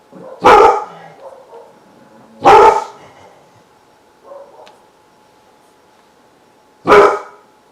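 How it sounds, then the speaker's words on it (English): A dog barks three loud, sharp times with long pauses between, plus a softer yip in the gap, in an otherwise quiet room. "Sorry if you heard my dog bark."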